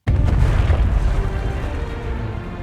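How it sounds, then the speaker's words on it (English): A massive explosion in the distance, a sudden deep boom that swells into a long, rumbling roar and slowly fades while staying loud throughout. "In the distance, there's a massive explosion that's ringing out."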